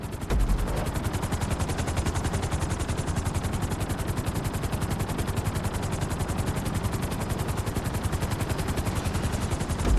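Loud, steady helicopter rotor thumping with engine whine as it lands on a landing pad in GTA V, a continuous rapid chop that holds close and even throughout.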